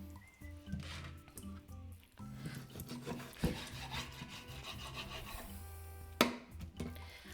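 A dull knife saws through food, cutting it into smaller pieces, with quiet, uneven rubbing and scraping strokes repeating close by and a couple of sharper knocks against the board.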